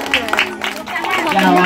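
Children applaud at an indoor birthday party with a clown entertainer, a lively burst of scattered clapping mixed with crowd noise and an adult voice talking through it.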